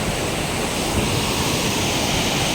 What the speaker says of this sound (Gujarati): અહીંયા તમને પાણી જાય ને એ બતાડું